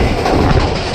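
A passenger train rumbles and clatters loudly and steadily as it pulls out of an old, historic railway station near Lahore, a continuous dense roar of wheels and carriages with no talk.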